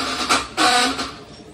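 Clicking from the starter of an RS100 scooter that won't start, a few short bursts close by, with a louder rattling burst in the middle that fades out.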